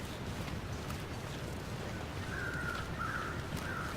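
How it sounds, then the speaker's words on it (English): Crows caw in the snowy wilderness of the survival game The Long Dark, a few distant calls rising over a constant windy hiss in the latter half. "You can hear crows."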